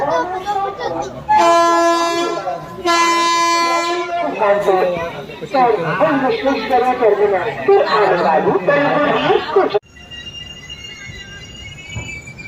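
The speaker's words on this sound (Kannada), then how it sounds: "ನೋಡಿ ನಮ್ಮ ಟ್ರೈನ್ ಆಲ್ಮೋಸ್ಟ್ ಹಾಲ್ಟಿಗೆ ನಿಲ್ಲಿಸ್ತಿದ್ದಾರೆ" Aboard the crowded Kondaveedu Express from Yeshwantpur to Machilipatnam, pulling into Vaddrahalli halt, two long, loud horn blasts ring out, followed by the clatter of the train and a busy chatter of passengers' voices.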